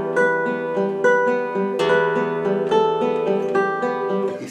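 Classical guitar plays a flowing fingerpicked arpeggio of the anonymous Romance, the ring finger not resting on the string, with clear ringing notes heard close and alone.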